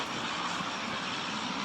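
A propeller airplane engine drones in the video game PUBG as a steady, even roar with no rise or fall, moderately loud and with no voices.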